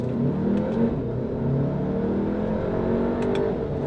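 A 2019 Volkswagen Tiguan R-Line engine revs steadily upward to 6,000 RPM, a continuous droning roar climbing in pitch, heard from inside the vehicle.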